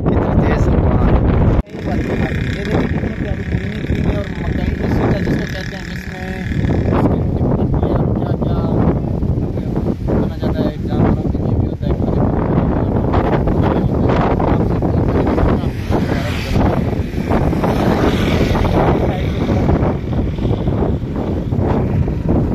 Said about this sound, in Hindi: कितनी तेज हवा आ रही